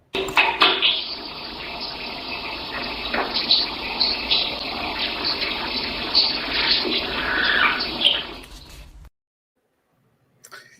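Water runs steadily from a tap in a played-back recording, a continuous rushing gush lasting about nine seconds before cutting off abruptly into silence.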